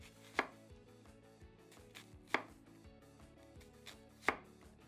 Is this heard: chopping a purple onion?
yes